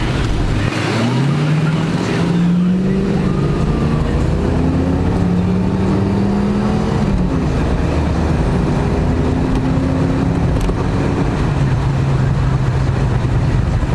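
A 1991 Ford Mustang driving down the road on a hot summer day, its engine humming loud and steady with gear-change pitch sweeps over constant road and wind roar, no voices heard.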